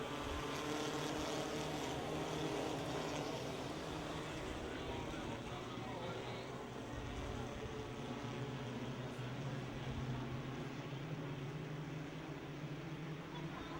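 Race cars take the green flag at the Speedzone speedway, a dense, continuous engine roar filling the track throughout while an announcer calls the race over it.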